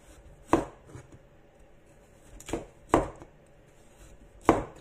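Four separate knife chops cut through tapioca on a board, each a sharp crisp strike spaced unevenly, close and fairly loud in a quiet room.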